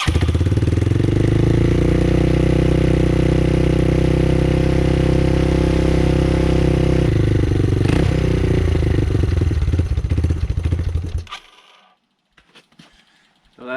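A 1986 Yamaha Moto4 YFM200 DX ATV engine idles high and steady at close range for about eleven seconds, its carburetor fuel-air mixture screw at two turns out, then cuts off abruptly into near silence.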